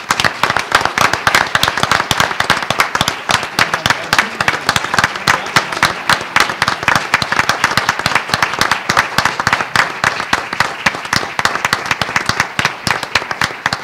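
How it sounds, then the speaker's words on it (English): Loud, dense applause from a meeting audience honoring school leaders, steady clapping throughout with no talk over it. "Please join me in giving these leaders a big round of applause."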